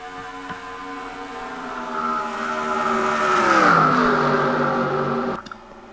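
Race cars roaring around Pocono in a racing video game, engines droning steadily and swelling as one passes close by around the midpoint, then cutting off abruptly near the end.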